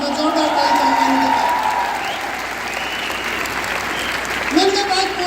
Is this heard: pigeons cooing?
no